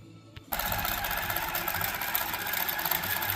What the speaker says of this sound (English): We're stitching out.